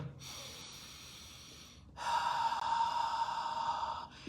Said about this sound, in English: by getting a grip and by trying to slow down my inhale